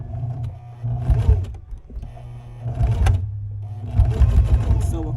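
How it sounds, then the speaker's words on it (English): A sewing machine stitching a few back stitches on a cropped tee, its motor whirring in short loud bursts separated by brief pauses, close and dominant. "Now I'm just gonna do like 1 or 2 back stitches"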